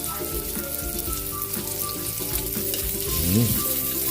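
Garlic and onion sizzle in a pan as a pork adobo is prepared, a steady close frying crackle with low rumbling clatter and a brief pitched scrape near the end.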